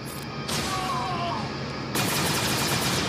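Blaster gunfire in the Star Wars Galaxy of Heroes video game, dense crackling volleys with a burst of heavier shots near the end, loud and continuous over game sound.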